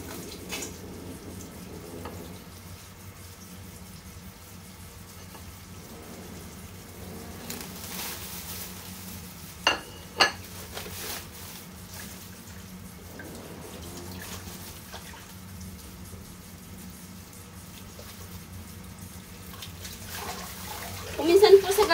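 Dried dragon fruit flowers being washed and soaked in water, with soft splashing and sloshing plus a couple of sharp clinks, fairly quiet under occasional talk in a kitchen.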